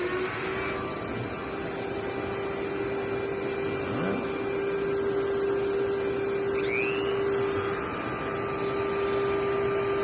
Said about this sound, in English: First comes the vacuum